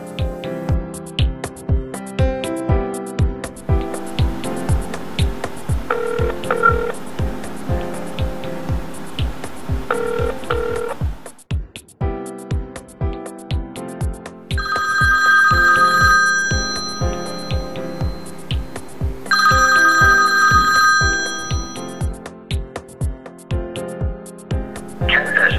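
An iPhone 4S in a Capdase Xplorer weatherproof case, part of a Pebbo motorcycle set, gives off a ringtone in two loud, bright bursts of repeated chiming tones over steady background music with a rhythmic beat.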